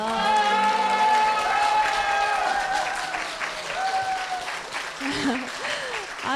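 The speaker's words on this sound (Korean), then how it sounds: "박수 한번 부탁드릴게요" Applause from a church congregation breaking out after a testimony, clapping under an announcer's voice and music, moderately loud and continuous.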